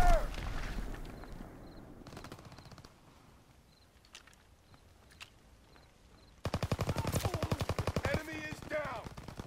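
Call of Duty WW2 gunfire: a few sharp shots and a distant patter early on, then a loud, close burst of rapid automatic fire near the end.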